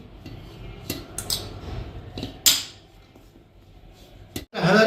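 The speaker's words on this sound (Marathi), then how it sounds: "आता ह्याला एकदा कालून घेऊयात आपण छानपैकी" Carrot takku, a grated carrot relish, being mixed with turmeric and asafoetida in a bowl with a spoon: scattered metallic clinks and scrapes, a few sharp taps against the dish, near and fairly loud, with no talking.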